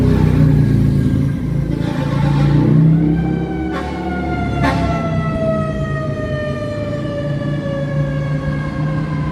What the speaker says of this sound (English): And that fire truck better not be for me.